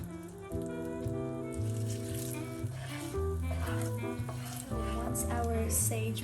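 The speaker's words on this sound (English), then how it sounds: "we have some browning of our butter, so now what we're going to do is add our sage" Sage sizzling in browned butter in a frying pan, a steady close hiss and crackle with occasional stirring, playing under background music.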